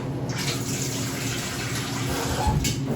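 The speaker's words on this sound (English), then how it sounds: "Then I'm going to just pour some water" Water is poured from a container into a baking tray set in an oven as a water bath for a coconut chai flan, a steady close splashing gush lasting a few seconds.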